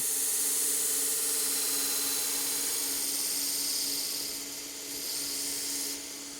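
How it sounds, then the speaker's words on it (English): A Katoku knife is drawn across a 120 grit sharpening belt, giving a steady bright hissing grind that stays loud and continuous, easing slightly near the end as the pass finishes. "And with one pass on this 120 grit belt, I've done one side"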